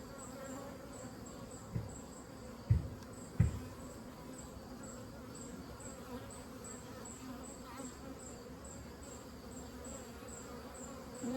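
A honeybee fans her wings at the entrance of a horizontal Layens hive, giving a quiet, continuous buzzing drone broken by a few soft knocks near the start.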